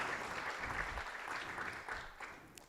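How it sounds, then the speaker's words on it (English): Audience applause for award participants at a 2018 Knowledge Mobilization Impact Awards ceremony: a steady, moderately loud wash of clapping that holds evenly through the whole stretch without voices. "So a round of applause for all of you that participated in that."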